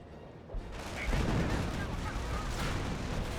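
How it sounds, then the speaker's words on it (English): Panzer IV tank cannon fire in Company of Heroes, a dense ongoing barrage of booms and crackling gunfire filling the whole stretch, loud and continuous with battlefield noise and possible commentary underneath. "Panzer IV firing away."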